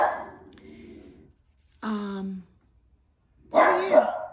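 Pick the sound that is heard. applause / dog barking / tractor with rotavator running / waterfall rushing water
dog barking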